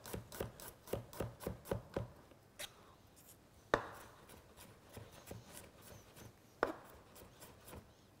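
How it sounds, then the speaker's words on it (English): Knife roughly chopping vegetables on a board for grilled sea bass, with a quick opening flurry of crisp knocks followed by slower, scattered chops and a few louder strikes, close and unaccompanied by talk. "And we're just going to roughly chop it up."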